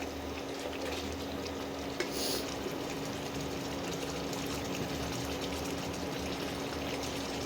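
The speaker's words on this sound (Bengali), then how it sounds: "এবার জল দিয়ে দেবো।" A steady, continuous rush of water pours into a pot of country chicken cooking without oil, a low even gush that holds at a moderate level throughout.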